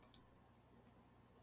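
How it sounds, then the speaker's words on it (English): Two quick, faint mouse clicks in close succession, a computer mouse double click made while drawing a polygon on a map, followed by quiet room tone. "I'm going to double click at the end here."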